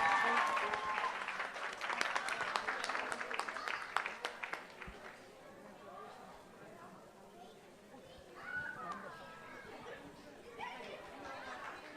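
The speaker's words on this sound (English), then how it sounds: "Let's give them a round of applause" Graduates at a career institute pinning ceremony receive applause that starts strong and then fades into scattered claps and crowd chatter, with voices carrying on through the room.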